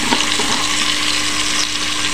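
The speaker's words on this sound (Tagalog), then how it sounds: "kailangan prituin mo siya konti bago lagyan gata" Small tulingan fish frying in a pan of hot oil before coconut milk is added, giving a steady, dense sizzle close by with faint scraping, no talk.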